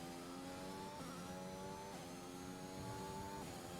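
An Arrow McLaren F1 2021 race car engine in the Bahrain night race of the video game revs hard in repeated rising whines, each shifting up and dropping back, steady and continuous with no voices.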